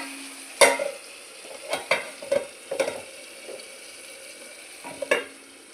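Tomatoes with chilli powder being sautéed in a pan, a soft low sizzle broken by several sharp, close scraping stirs spaced irregularly, with no talking.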